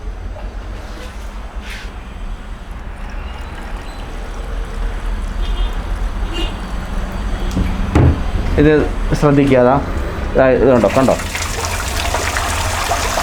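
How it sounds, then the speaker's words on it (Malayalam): Water poured into a car radiator gurgles and trickles through it, a continuous splashy flow with knocks and handling sounds, while someone talks over it. "കൃത്യമായി വെള്ളം ഇതിലൂടെ പമ്പിങ് ചെയ്ത് പോവും"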